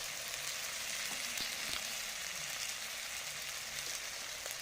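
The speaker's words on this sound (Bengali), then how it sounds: "মশলাটা ভালো করে কষিয়ে নেব" Spice paste with chilli and tomato sizzles and fries in a pan for katla fish curry, a continuous close hiss with occasional stirring clicks and no voices.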